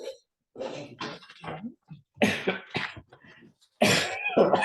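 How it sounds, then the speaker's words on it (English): A person coughs several times in short, loud bursts, spread across a few seconds indoors during a Rotary club meeting, with faint room noise and no speech. "Who is that coughing?"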